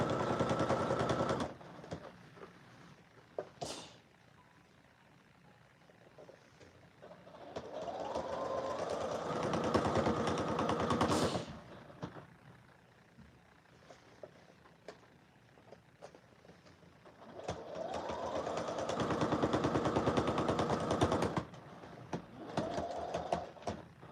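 A sewing machine stitches through the layers of a collar in two long bursts of fast, even whirring, separated by a quieter pause with small handling clicks and no talking.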